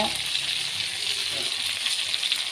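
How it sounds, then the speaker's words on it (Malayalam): Prawns were fried and removed, and ingredients now sauté in the leftover oil, giving a steady, close hiss of sizzling that carries evenly through the moment with no talking. "ആ എണ്ണയിൽ തന്നെ ഞാൻ ഇതെല്ലാം ഇട്ട് ഒന്ന് വഴറ്റും"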